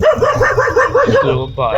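Street dogs barking and yipping in a quick rhythmic series, close and loud, while someone talks over them.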